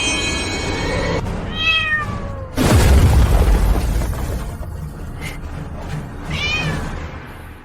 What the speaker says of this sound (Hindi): यह मेरी पत्नी की पसंदीदा बिल्ली है।